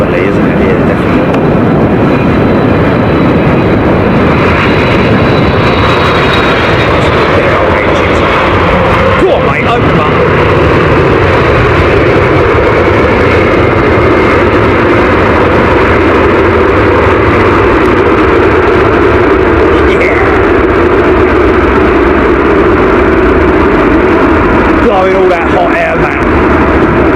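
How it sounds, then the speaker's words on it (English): Singapore Airlines Boeing 747 arriving at London Heathrow runway 27R, a loud sustained jet roar that holds steady throughout, with wind noise and no voices over it. "747. Singapore Airlines."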